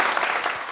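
Audience applause at a live French TV game show, dense and steady clapping throughout the short moment with no voices over it.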